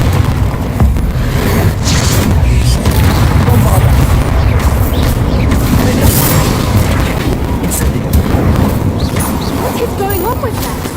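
In the Hogwarts Legacy video game, a Confringo fire spell bursts into booming blasts, a rapid series of loud explosive pops and crashes piling up over about eleven seconds, with a voice speaking over the din.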